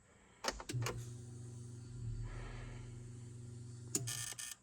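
A Geo Tracker's electronic chime sounds in a steady, sustained tone for a few seconds, bracketed by brief clicks and mechanical clunks, fairly quiet overall; the engine does not start.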